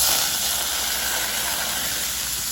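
A mixture seasoned with soy sauce goes into hot oil for a simple potato dish, producing a steady, broadband hiss of sizzling at moderate volume, unbroken and without voices.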